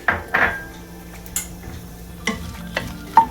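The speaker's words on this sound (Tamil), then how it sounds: "ஒரு கரண்டி எண்ணெய் போட்டிருக்கேன். காஞ்ச மிளகாய் எல்லாத்தையும் போட்டுடலாம்." Dried Kashmiri chillies fry in a spoonful of oil in a kadai, giving a soft steady sizzle broken by a few sharp scrapes and clinks of a metal ladle stirring against the pan.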